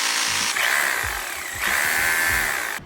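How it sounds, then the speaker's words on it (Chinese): A corded electric rotary hammer that drives its impacts with a pneumatic cylinder, running in two loud bursts of high motor whine with rapid hammering close by and a brief dip between them. "它是通过气缸压缩空气后撞击式作业，"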